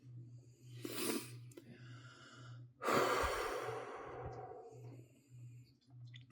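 Slow, deep breaths during a guided meditation: a long soft inhale, then a fuller, louder exhale that trails off, close and quiet over a low steady hum.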